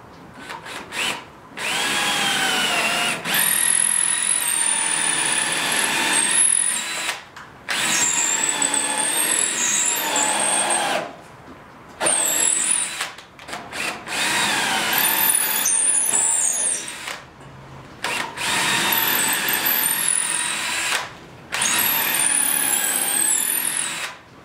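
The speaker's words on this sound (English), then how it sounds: "I'm just using a 3/8 drill bit. I'm gonna countersink the top." A power drill with a 3/8 drill bit countersinks holes in a butcher block workbench top, running in several loud whining bursts of a few seconds each, separated by short pauses.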